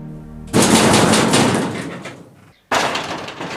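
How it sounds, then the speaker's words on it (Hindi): A door is banged hard from outside, a sharp loud impact with a rattling decay, followed after a pause by a second forceful bang. "जयंती दरवाजा खोल"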